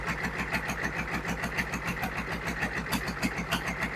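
GEP/Navistar 6.5 diesel engine with a Stanadyne injection pump running on a stand, a steady rapid clattering diesel knock at constant speed, close and loud with no voices.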